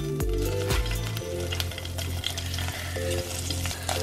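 Shrimp sizzle and fry in a little olive oil in a pan, a loud continuous crackle with occasional stirring and scraping taps close by.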